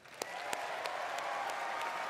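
A BlizzCon 2023 audience applauds in a dense, steady wash of clapping that carries on for the full couple of seconds, heard at a distance and fairly faint, with no one speaking.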